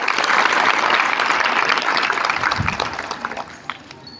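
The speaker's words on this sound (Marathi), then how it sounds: "मॅडमसाठी एकदा जोरदार टाळ्या वाजवा" An audience at a children's kirtan gathering for Ashadhi Wari claps loudly together, the applause holding strong before thinning out and fading into scattered claps.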